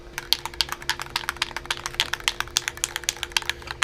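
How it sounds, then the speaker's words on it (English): A spray paint can being shaken vigorously before painting a Camaro wing, its mixing ball rattling in a fast steady run of sharp close clicks with no talking. "Shake can vigorously."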